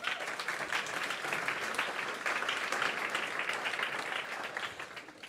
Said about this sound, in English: Warm applause again.